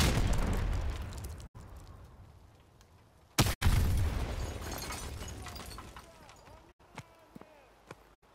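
Gunfire and explosions in the Call of Duty 4 Modern Warfare video game, loud and continuous, with repeated sharp blasts and a dense battlefield roar that pauses briefly.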